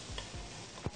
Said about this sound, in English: Keep moving things around because you don't want the spices to stick